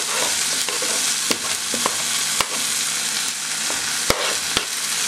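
Onions browned in a pan fry with added garlic, ginger and lemongrass, giving a loud, steady sizzle with occasional sharp clicks of stirring against the pan.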